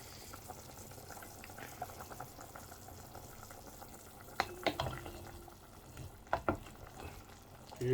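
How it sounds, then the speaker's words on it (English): Chicken meat with peas cooks in a pot, giving a soft steady sizzle and bubbling, punctuated by a few louder clinks and stirring knocks midway, with no talking. "Look at that, it's boiling beautifully."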